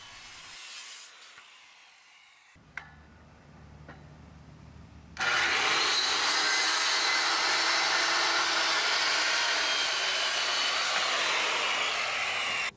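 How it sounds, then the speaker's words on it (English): A power saw trims wooden deck joists to a straight chalk line, starting abruptly after quieter handling noises and then running loud and steady close by. "trim the joists so that they are all nice and straight before I add what is called a rim joist"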